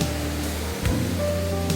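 Steady broadband rush of the Bokhodong waterfall on Seokryongsan mountain in the Jomurak valley of Gapyeong, a continuous close roar of falling water with a faint low hum underneath.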